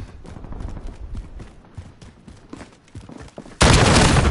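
Rapid gunfire crackles in a Call of Duty: Modern Warfare match, a string of sharp close shots in quick bursts, ending in a sudden loud surge of noise.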